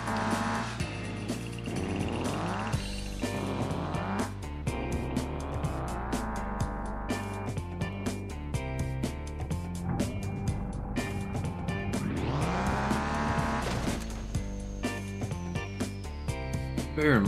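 Video-game truck drag racing between posts on a custom map, with engines revving up in rising sweeps, shifting and holding loud tones over several seconds, each pass climbing in pitch before dropping and building again.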